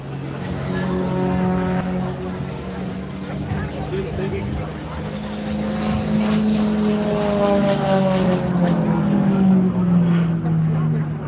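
An aerobatic propeller aircraft performs a hesitation roll and a vertical climb at the Ayr air show, its loud, steady engine drone rising and falling in pitch as it manoeuvres, with a commentator talking over it.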